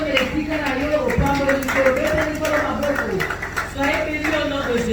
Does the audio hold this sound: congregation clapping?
yes